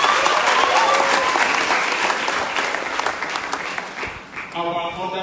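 A lecture hall audience at an inaugural lecture applauds and cheers loudly, with a dense wash of clapping that tapers off near the end. Voices mix into the crowd noise.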